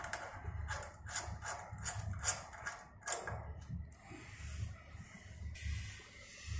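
Screws being loosened from the top cover of an electric film coating machine: a run of short metallic clicks and ratcheting scrapes, close and moderately loud, with faint low machine hum underneath.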